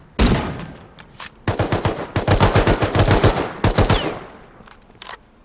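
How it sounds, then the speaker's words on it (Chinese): Gunfire in the survival game Rust: a single loud shot, then rapid bursts of automatic fire in quick volleys, close and sharp, tapering to a few isolated shots at the end. "再开一发枪，等，我们要开枪"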